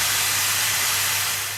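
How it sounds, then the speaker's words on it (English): Mushrooms cook in a hot pan on turned-up heat as their released water boils off, giving a loud, steady, close hiss and sizzle of steam with no talking. "I've turned it up again a bit so that we can boil off this water quickly"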